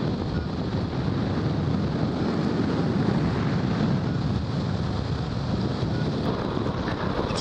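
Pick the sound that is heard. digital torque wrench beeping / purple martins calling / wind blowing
wind blowing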